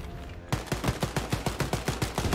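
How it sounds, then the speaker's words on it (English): Rapid automatic gunfire in the shooter Wolfenstein Youngblood, a loud, evenly spaced burst of about a dozen shots after a brief pause, with no talk. "Oh yeah, rapid fire, baby, rapid fire, keep it coming."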